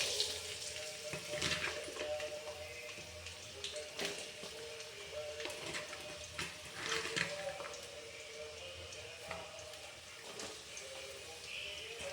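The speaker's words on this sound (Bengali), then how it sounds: "তেলটা গরম হয়ে এসেছে, আর আমি পেঁয়াজগুলো দিচ্ছি।" Onions sizzling as they go into hot oil for a coriander chicken dish, a soft steady crackle with a few sharper spits, fairly quiet.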